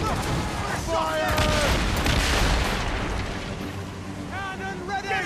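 Ship cannons boom in a naval battle in Assassin's Creed Rogue, a rolling barrage of heavy blasts and crackling impacts over churning sea noise, as crew members shout orders amid the firing.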